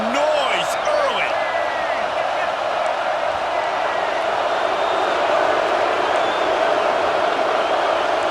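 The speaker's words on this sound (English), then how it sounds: "This crowd bringing the energy and noise early." A stadium crowd in the College Football 26 video game keeps up a steady, dense roar for the whole stretch, with faint higher calls and whistles scattered on top.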